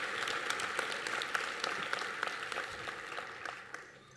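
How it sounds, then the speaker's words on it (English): Audience applause at a college academic excellence awards ceremony, a fairly faint, steady patter of many hands clapping that slowly thins out. "Please give a round of applause for Maciela and the Communication Design Department."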